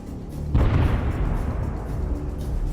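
An explosion bursts right beside the wheel of a MaxxPro armored vehicle during a drone attack, a sudden loud boom that leaves a heavy rumbling roar trailing on afterward.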